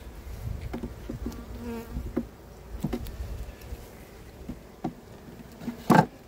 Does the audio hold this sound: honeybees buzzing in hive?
yes